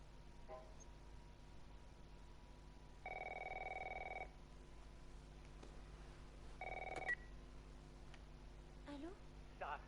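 An old-style telephone rings twice in The Last Of Us, each ring a steady electronic trill over a quiet background hum, with brief clicks and a short vocal sound in between.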